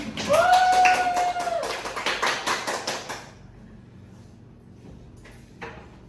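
Brief clapping for a presenter being introduced in an ergonomics and occupational health class project, a short burst of several claps over a sustained tone, fading to near silence after about three seconds.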